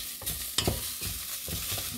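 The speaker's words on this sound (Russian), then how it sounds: "Я его просто без всякого жира, без ничего обжариваю слегка вот здесь вот в кастрюльке." Leek sizzles gently without fat in a pot while a utensil stirs and scrapes a few times, close and fairly quiet.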